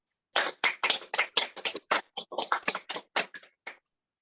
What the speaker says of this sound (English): A round of applause for all of the authors.